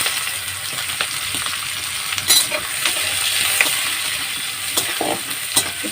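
Chopped onion and garlic frying in hot oil for Bengali-style khichuri, a steady close sizzle with scattered scraping stirs and light clinks of the spoon against the pan, no voices.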